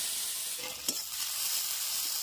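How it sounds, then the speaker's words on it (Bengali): Onions sizzle in hot oil in a wok after fish has been fried, a close, steady frying hiss with one brief stirring scrape. "কড়াইয়ে তেল রয়েছে, পেঁয়াজ দিয়ে দেব।"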